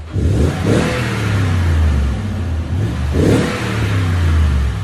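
A 2021 Toyota Tundra 5.7L V8 with true dual TRD Pro exhaust revs twice, each blip rising into a deep, throaty roar before settling back to a low rumbling idle, heard close and loud.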